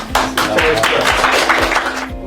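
Audience at a political meeting with young people in Gwangju breaks into applause, a dense spread of hand claps running steadily and close for about two seconds before tapering off.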